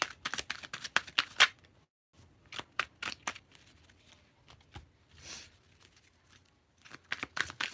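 Tarot cards being shuffled by hand in a quiet room, with quick bursts of riffling and soft flicking separated by short pauses, close and moderately loud, with no talking.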